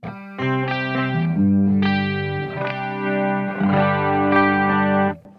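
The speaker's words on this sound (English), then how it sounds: "it sounds so wide because of this pitch shifting and this Haas delay idea" Sustained, shimmering guitar chords through a Blackstar St. James amp, with a wide, swirling chorus-like effect from pitch-shifted doubling and Haas delay, playing alone for several seconds.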